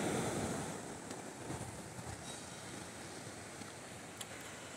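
Faint, continuous wash of surf on a quiet, clean beach on the coast of Itajaí, Santa Catarina, with wind buffeting the microphone and no voices.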